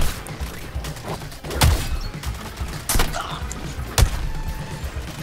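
Sniper gunfire in the Suicide Squad video game: a few sharp, loud shots spaced a second or more apart over a busy, noisy game soundscape.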